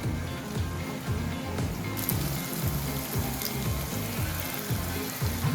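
Urad dal vadai batter sizzling in hot oil in a kadai, a steady loud crackle and bubbling that continues unbroken, with no voices.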